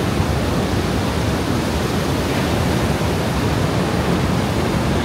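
Steady, loud roar of a waterfall and surf at Menganti beach in Kebumen, a dense continuous wash of water noise with no breaks or voices.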